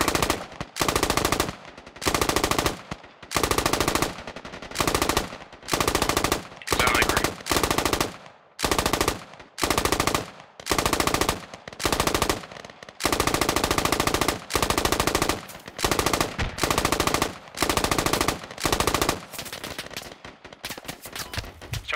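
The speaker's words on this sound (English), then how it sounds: "Which way am I shooting this MG?" Machine gun fire in the video game Squad, loud, close sustained bursts repeating in a steady on-off rhythm, with short pauses between volleys and a longer unbroken stretch near the middle.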